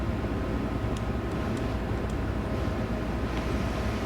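Inside the cab of a DB BR 103 locomotive in Train Sim World 3 on the Mainz–Koblenz line: a constant, heavy roar of low rumble and broadband hiss, with a few faint high ticks over it.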